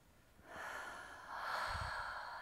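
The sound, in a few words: deep breath in during a breathing exercise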